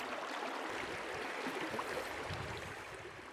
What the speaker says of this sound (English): the sound of the rushing water probably wasn't helping.